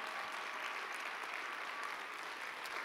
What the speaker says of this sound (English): How about a big hand clap for Pastor Rodney Howard Brown?